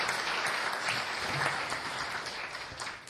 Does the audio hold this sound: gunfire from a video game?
no